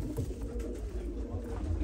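Pigeons on a Turkish bird farm coo in soft, low, continuous throaty calls, close by and fairly quiet.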